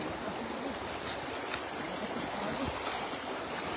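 A strong river current flows in a steady broadband rush of moving water, close and continuous with no voices, while fishermen net tilapia nearby.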